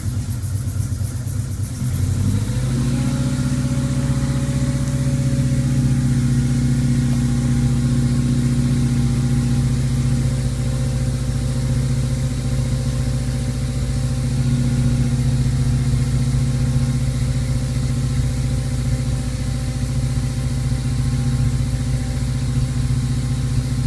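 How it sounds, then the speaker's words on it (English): A Subaru EA82T turbo engine cranks briefly and catches from a cool start, then settles into a steady, loud, even idle that runs alone for the rest of the stretch. "So I'm just going to start the car."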